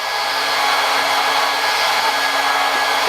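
Heat gun running steadily while warming up to temperature, a constant close airy whir with a faint high whine, no voices.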